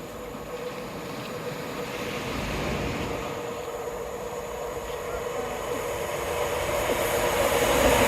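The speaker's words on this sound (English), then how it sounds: "I think we might get another train actually." A train rumbles past by the sea at Teignmouth, a steady broad roar that swells and grows louder toward the end, heard at moderate distance with no one speaking.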